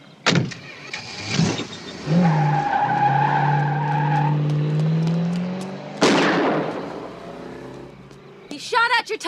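A car skids hard on squealing tires after one of them is shot, a long sustained screech followed by a second harsh skid burst, loud and close, with brief voices around it.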